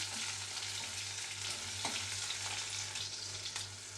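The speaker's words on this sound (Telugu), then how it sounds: "ఉల్లిపాయలు బాగా మంచి రెడ్ కలర్ వచ్చే వరకు ఫ్రై చేసుకోవాలి." Sliced onions and curry leaves frying in a pan for Nellore-style pappu pulusu, a steady close hiss and sizzle with occasional scraping stirs.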